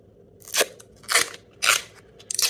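Duct tape is pulled off the roll in about four-inch strips for cleaning dust from a 3 kW 72 V e-bike hub motor. Four sharp, crackling rips come close up at roughly half-second intervals, with quiet between them.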